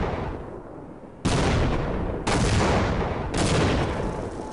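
Gunfire in the Half-Life video game, with three loud bursts of sustained automatic weapon fire that each start abruptly over a noisy rumbling background, close and heavy, with no talking.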